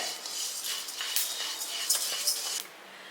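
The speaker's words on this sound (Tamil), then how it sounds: "இப்போ கவுனி அரிசி வந்து வறுபட்டுருச்சு இதையும் கொட்டிக்கலாம் பாருங்கள் சவுண்டு வருது" Kavuni black rice roasting in a pan while being stirred, with a steady dry hiss broken by close, light scraping clinks from the utensil against the pan, ending abruptly.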